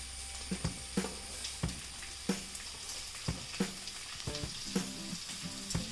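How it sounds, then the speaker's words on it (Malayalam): Sliced onions and green chillies fry in a pan for a chicken curry, a soft steady sizzle broken by regular clacking knocks of a spatula against the pan, roughly one or two per second; no talking. "ഇതും കൂടെ ഒന്ന് ബ്രൗൺ കളർ വരെ നമുക്ക് ഒന്ന് ഫ്രൈ ചെയ്തെടുക്കണം"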